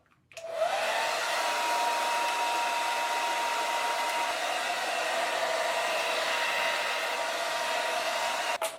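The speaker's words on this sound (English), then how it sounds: "So I'll just take my dryer, do it on low heat" A hair dryer on low heat runs steadily at close range for several seconds with a constant whooshing hum, switching on at the start and cutting off at the end.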